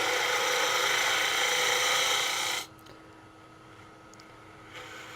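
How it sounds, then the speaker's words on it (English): A spindle gouge hollowing a cherry lidded box on a wood lathe, a loud, steady hissing cut that stops abruptly halfway, leaving the quieter hum of the spinning lathe. "now I'm gonna hollow this with the spindle gouge"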